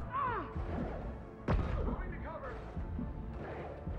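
A flashbang grenade goes off during a firefight in Mass Effect 2, a single sudden bang over continuous game noise while someone talks throughout.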